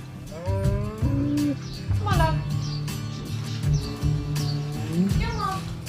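Dairy cows mooing at a farm milking shed on a Central Hawke's Bay station, several long low moos close by in succession, with a voice and faint bird chirps in the background.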